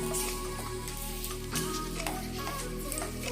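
Hibiscus leaves crisping in hot oil for a homemade hair oil, giving a steady, close sizzle with light crackles and ticks running throughout, no voices.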